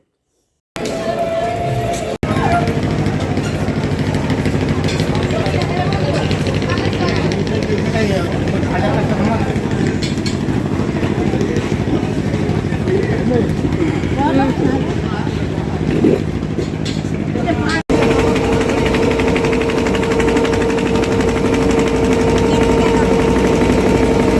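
A motor boat engine drones steadily on a crowded river ferry crossing, a loud continuous hum under nearly constant talking, with a brief break near the start and a shift in tone late on.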